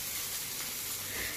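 Onions sizzling as they sauté in a pan for a Tamil home-cooked dish, a steady dense hiss with no pauses over a short stretch.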